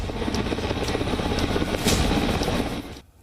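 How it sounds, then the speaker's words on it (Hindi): US Marine helicopters flying over Los Angeles during riots: a steady, loud rotor and engine roar with a broadband wash that holds for about three seconds, then drops away abruptly at the end. "मरीन कमांडोज के हेलीकॉप्टर दिखाई देने लगे"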